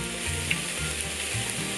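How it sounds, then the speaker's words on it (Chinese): Thin chicken breast seasoned with thirteen-spice mix pan-frying, a steady, close sizzle and crackle with a few small pops, no talking. "其实鸡胸肉很快就熟了，稍微煎一下。"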